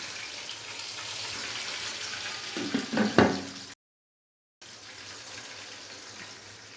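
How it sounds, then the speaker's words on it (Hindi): Chicken frying in a pan while Arabian-style chicken mandi is cooked, a steady broadband sizzle with a brief louder crackling burst, a short cut to silence, then the even sizzle resumes. "चिकन को हमने अच्छे से फ्राई कर लिया है।"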